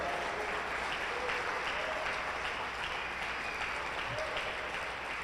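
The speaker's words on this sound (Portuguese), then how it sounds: "Pode aplaudir o Senhor." Steady applause from a church congregation at a religious conference, faint and distant, a continuous wash of clapping lasting several seconds with little else heard.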